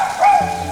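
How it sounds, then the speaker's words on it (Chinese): A single dog bark echoes from inside a cliffside cave dwelling in rural Yunnan, one short tonal bow-wow heard at a moderate distance. "里面有一只狗在叫。"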